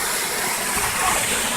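At the Blue Hole in Tennessee, a waterfall roars in a dense, loud, continuous rush close by, with no voices over it.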